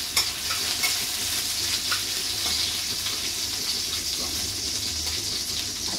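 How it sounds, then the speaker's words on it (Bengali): Jackfruit seeds frying in oil in a pan, a continuous close sizzle with light stirring clicks and scrapes, no voices. "একটু আগে আগে দিলাম কাঁঠালের বিচি ভাজবো"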